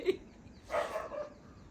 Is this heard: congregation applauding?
no